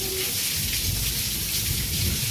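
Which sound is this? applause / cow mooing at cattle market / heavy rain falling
heavy rain falling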